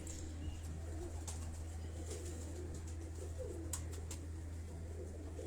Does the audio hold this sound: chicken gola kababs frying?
no